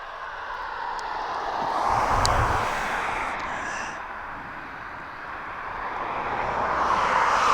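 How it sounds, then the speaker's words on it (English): A Jet2 Boeing 737 airliner inbound at East Midlands Airport, a steady broad jet-engine roar at moderate distance that swells and eases gently, with no talk over it. "that 737 is inbound, which is the Jet 2"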